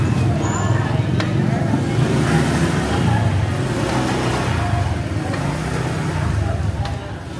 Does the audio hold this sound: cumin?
no